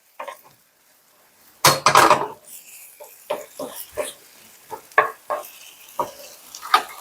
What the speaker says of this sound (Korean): 자, 이렇게 골고루 소스를 발라줍니다.